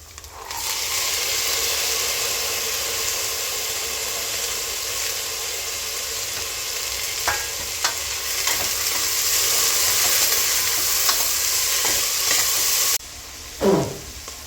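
Peas tipped into browned onions sizzle in a hot pan while being stirred, making a loud, steady frying hiss with a few brief scraping stirs, then it briefly drops off near the end.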